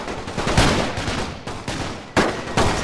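Gunfire in a World War I game set during the Russian Revolution cracks out in a rapid series of sharp reports, several shots close and loud with bursts of rattling fire between them.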